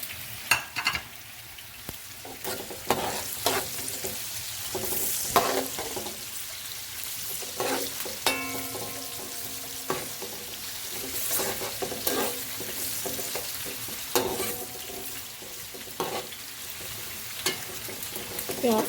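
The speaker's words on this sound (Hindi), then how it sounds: "एक तरफ हमारे प्याज इसमें पक रहे हैं, बीच में हम चम्मच चलाते रहेंगे" Onions frying in a pan for savour pulao are stirred with a spoon: a steady sizzle with repeated scraping clicks of the spoon against the pan, close and fairly loud, with no talking.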